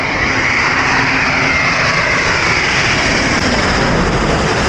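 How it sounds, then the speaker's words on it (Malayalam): A large Qatar Airways jet airliner passes low overhead, its engines making a loud, continuous roaring rush that holds steady for several seconds, with no voices. "അടുത്ത ഫ്ലൈറ്റ് വരുന്നുണ്ട്."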